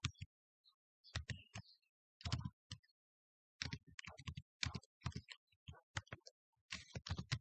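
Irregular bursts of computer keyboard typing during network administration work, quick clusters of close, crisp keystrokes separated by short pauses, with no talking over them.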